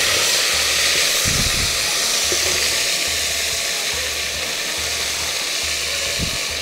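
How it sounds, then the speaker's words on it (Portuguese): Chopped garlic sizzles and fries in a hot pan: a loud, dense hiss that stays steady throughout, close up, with a low hum underneath and no speech. "Vou colocar aqui o alho, que já tá picadinho aqui."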